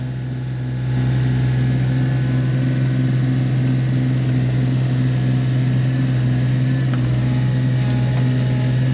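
A backhoe engine runs steadily and loud at close range, its low droning hum holding constant throughout as the bucket scoops into dirt.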